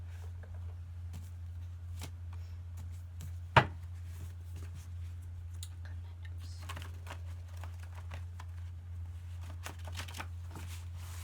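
Message cards are shuffled by hand in a quiet room, giving soft, scattered riffling and tapping, with one sharp louder snap early on, all over a low steady hum.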